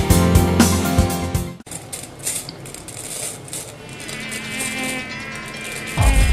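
Whitefly and other small flies buzz in a dense, continuous insect drone with a few faint clinking sounds mixed in, loud and close throughout.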